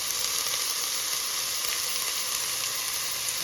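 Celery and onions sizzle steadily in a pot with carrots for lentil soup, a loud continuous close-up hiss of frying that holds even throughout while stirred, no speech.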